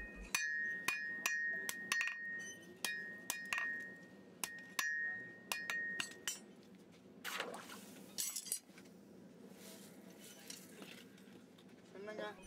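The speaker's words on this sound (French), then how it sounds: "Le forgeron utilise, pour ce faire, un marteau auxiliaire appelé chasse à parer ou à planer à main." A blacksmith in a forge workshop at Papanaidupet smooths a heated axle end with a hand-held set hammer, giving sharp, ringing metallic strikes in an irregular series, followed by rougher scraping and clanking.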